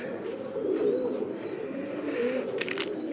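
Pigeons on a farm coo softly and steadily, several birds overlapping in a low, throaty rolling murmur, with faint chirps late in the moment and no talk.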